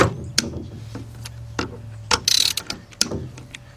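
A ratchet cranks on Honda engine bolts during head gasket and timing belt work, giving scattered clicking pulls and a short burst of fast ratcheting, close up with no talking.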